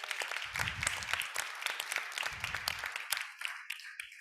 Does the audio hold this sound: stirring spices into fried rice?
no